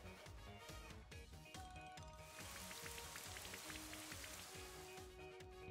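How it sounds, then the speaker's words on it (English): Rain Dance move in Pokemon Sword, Isle of Armor, heard as a steady hiss of game rain with pattering drops over looping battle music, fairly loud and continuous. "Rain dance."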